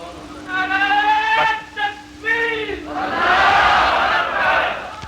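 Voices at a religious sermon alternate between a few sustained, tonal chanted calls and a broad crowd shout that swells in the second half, loud and close.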